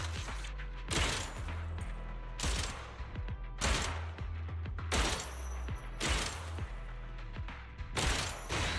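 Gunfire in the video game Zenless Zone Zero, a regular series of about eight sharp shot bursts roughly a second apart over a steady low hum, fairly quiet.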